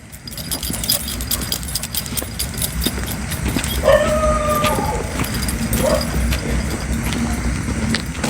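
A dog at an economic park in Chatuchak, Bangkok, lets out two short whining, howl-like cries midway through, fairly faint over a steady outdoor background.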